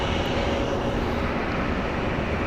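An airliner lands at Phoenix Sky Harbor Airport, a brief, faint, steady engine rumble heard from a distance.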